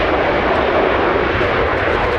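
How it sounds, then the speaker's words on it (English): A Cathay Pacific jet airliner departs LAX with a loud, steady, broad roar of engine thrust filling the air, close and unbroken for a couple of seconds. "There goes Cathay Pacific, number 1 for departure."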